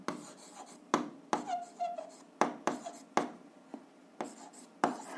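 Pen scratching out an algebra equation on paper, a linear equation with two variables, in a rhythmic series of close, distinct strokes and taps with short pauses between them.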